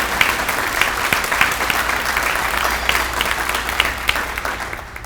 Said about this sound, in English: can you give a very big round of applause for Mr. James Kistner from our governing board